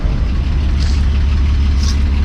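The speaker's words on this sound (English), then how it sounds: "the car's idling super smooth" A turbocharged VR6 engine in an MK3 Volkswagen wagon idles smoothly and steadily, a loud, close, continuous low hum.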